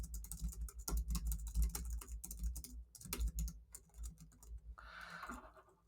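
Someone types a street address on a computer keyboard in irregular bursts of close, crisp key clicks with brief pauses, ending in a short rustling noise.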